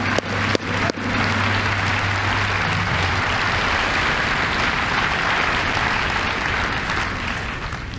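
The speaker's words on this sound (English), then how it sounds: "have another big round of applause for our choir" A graduation audience gives a big, steady round of applause for the school choir, dense clapping filling the hall without a break after a few brief thumps at the start.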